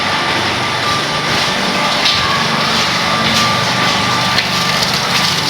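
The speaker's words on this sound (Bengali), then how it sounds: "আওয়াজ তো পাচ্ছেন পাম্পে চলছে" An electric water pump runs at a plumbing tank setup, giving off a loud, continuous mechanical whine and hum with a thin steady tone, close by and unbroken.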